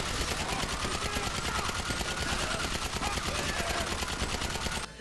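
Combat PDW submachine gun firing in GTA 5, a continuous rapid automatic stream of shots for about five seconds, loud and close, ending abruptly.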